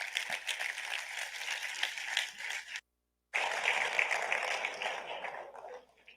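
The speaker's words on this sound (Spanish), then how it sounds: "Un aplauso, por favor." Audience applause at a swine-industry talk on nutrition, welcoming a doctor to the stage: dense, steady clapping that breaks off briefly, resumes just as full, then fades out at the end.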